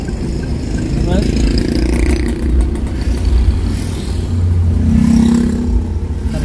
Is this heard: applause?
no